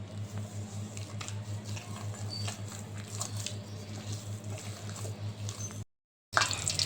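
Bread kofta mixture being kneaded by hand with garam masala, giving a steady, close, wet squishing and squelching that continues without talk, broken by a brief silence near the end.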